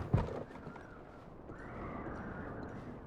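A horse in a video game gives a short sharp neigh, followed by a soft, steady bed of hoof and ambient game noise. No one speaks.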